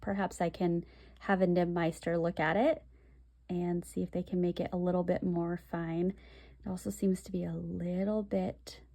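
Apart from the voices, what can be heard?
No everyday noise stands out behind the speech.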